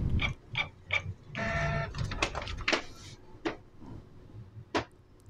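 A Canon Pixma G-series inkjet printer runs a test page, giving short mechanical clicks and whirs, a longer feed rumble, and scattered quieter ticks and clunks at moderate volume.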